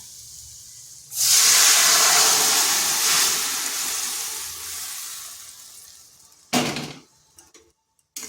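Ginger hits hot oil for a Bengali dal shukto with a sudden loud hissing sizzle that slowly fades while being stirred, followed by a short sharp burst of sizzle near the end, with no speech.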